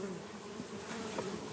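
Honey bees buzz quietly at an opened hive, a soft continuous drone with a few individual bees passing close, with no talking.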